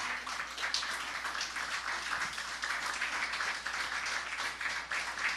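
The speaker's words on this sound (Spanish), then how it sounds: "¿Le puedes dar un aplauso al Señor?" A church congregation applauds during a service, steady mid-level clapping from many hands heard from some distance, continuous throughout.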